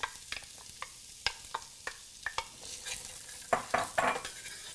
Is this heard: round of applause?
no